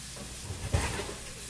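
Crumbled sausage frying in a pan for gravy, a soft, steady sizzle with a brief scrape of a fork near the middle.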